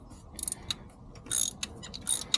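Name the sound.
stubborn bolt being removed from Ford F-150 intake manifold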